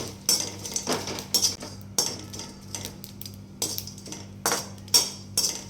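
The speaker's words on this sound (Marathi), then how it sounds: "आता याच तेलामध्ये जायपत्री आणि ही रामपत्री दोन्ही एकदमच तळून घेऊ." Mace and dried nutmeg flower frying together in oil in a home kitchen while spice masala is made, with repeated metallic clinks of a spoon against the pan over a low, steady sizzle.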